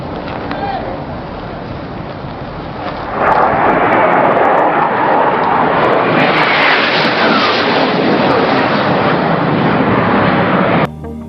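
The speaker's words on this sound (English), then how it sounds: "Looks like you may come across the flight deck, coming in low, bridge wing level." An aircraft passing low over a ship's flight deck at bridge-wing level: a constant rumbling roar that jumps suddenly louder partway through and stays intense before cutting off, with some talk mixed in.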